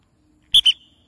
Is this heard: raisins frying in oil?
no